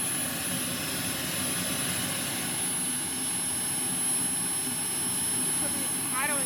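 A Boomerang Atom RC model jet's turbine engine runs steadily at high RPM, a constant loud whine and roar with a thin high tone throughout, and people talk briefly over it.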